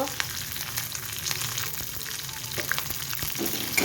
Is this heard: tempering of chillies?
yes